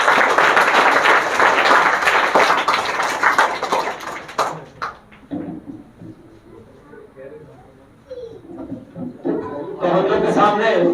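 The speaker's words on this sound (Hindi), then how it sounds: "उनके लिए एक बार फिर से जोरदार तालियां" Audience applauds loudly at a Teacher's Day motivational speech event, with dense clapping for several seconds that fades out before a person begins talking.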